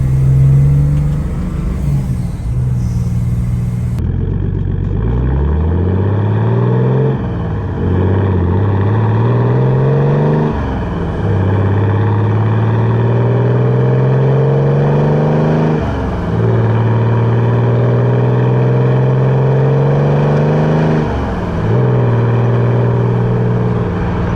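A heavy diesel engine, an OM606 swapped into a Mercedes 280SE W108 with a six-speed gearbox, drones and rises repeatedly as the car accelerates through several gears, each revving climb dropping before the next, loud and continuous.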